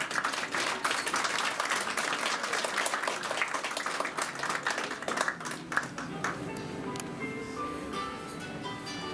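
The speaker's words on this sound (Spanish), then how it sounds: "Tenemos nuevamente un fuerte aplauso porque creo que está nervioso Arias." Applause from the audience at a graduation ceremony for a 2016 class, dense steady clapping that thins and softens toward the end as a voice starts to speak.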